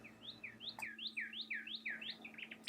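An ʻōmaʻo, a gray-brown Hawaiian thrush, calls in the Hakalau rainforest, a rapid series of about ten clear, rising and falling whistled notes. The song is fairly close and loud over a faint steady hum.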